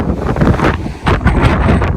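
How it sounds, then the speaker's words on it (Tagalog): Fierce blizzard wind in Canada blasting past houses, a loud, dense roar with heavy microphone buffeting that dips briefly at mid-point before surging back at full force. "Galit yung hangin eh."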